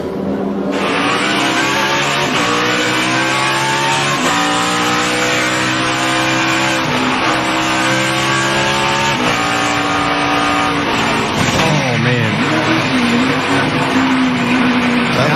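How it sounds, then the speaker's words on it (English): NASCAR stock cars roar on a road course, engines revving and shifting with tire squeal and a skid as cars tangle in a crash, loud and continuous. "Truex into McDowell."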